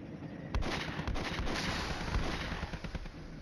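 A battered M109 self-propelled howitzer fires in a Flashpoint Campaigns: Red Storm wargame, giving a steady rumble of distant artillery with repeated thuds and crackling bursts, faint and continuous.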